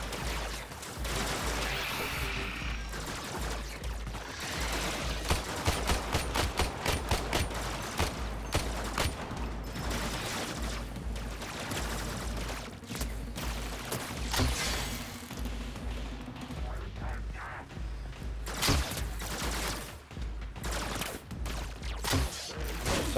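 Sustained gunfire in Warframe, dense rapid bursts of shots and impacts rattling on for a long stretch, with someone talking intermittently beneath and between the volleys.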